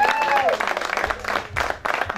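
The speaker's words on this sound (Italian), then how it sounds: "applausi all'organizzatore spettacolo" A live show crowd in Turin applauds the organiser, a short burst of clapping and crowd noise that rises and dips, mixed with a speaking voice over it.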